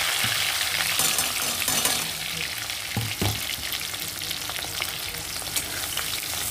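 Tomato and onion fry in a pan for okra chorchori, a dense continuous close sizzle with scraping stirs and a couple of utensil knocks midway, no talking.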